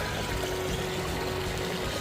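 Deep floodwater in rain-soaked wetlands being waded through, giving a steady close sloshing and pouring wash of water that continues without a break and has no speech over it.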